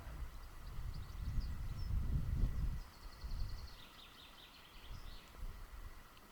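Birds chirp and trill in a Bashkortostan forest in spring, fairly faint and distant, over a low rumbling background that swells in the first few seconds.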